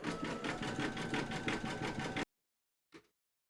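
An embroidery machine stitches a zigzag seam joining two segments of a Halloween kitty design in a hoop, a steady close mechanical rattle for about two seconds that stops abruptly, then one brief soft click.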